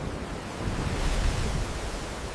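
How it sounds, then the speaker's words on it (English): Floodwater from Typhoon Jebi pouring into an airport, a steady, dense rushing roar of moving water that swells slightly in the middle and continues without a break. "Water came pouring in."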